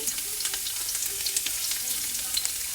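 Garlic fries in hot oil for squid adobo, giving a soft, steady crackling sizzle with scattered pops and occasional stirring sounds.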